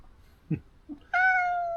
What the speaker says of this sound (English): Large-headed, large-legged, large-bodied cat.